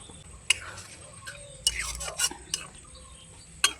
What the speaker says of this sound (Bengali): নেড়ে চেড়ে দিচ্ছি মশলার সঙ্গে।